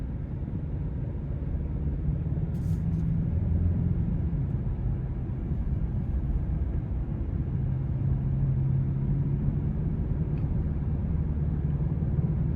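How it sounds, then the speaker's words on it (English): Genesis G70 2.5T in sport mode, a steady low engine rumble heard from inside the cabin, even and sustained throughout with no talking. "I'm going to put it into the sport mode. And just an exaggerated rumble, let me put it that way."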